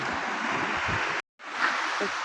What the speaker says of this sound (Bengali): কি ঢেউ আসতেছে একটা বড়